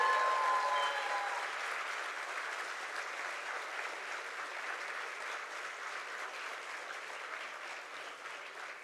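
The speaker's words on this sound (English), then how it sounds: "I would request all the graduating students to give a loud round of applause to all the parents" Graduating students at a KIMS graduation day give the parents a loud, steady round of applause, a dense wash of hand clapping that carries on throughout and eases slightly toward the end.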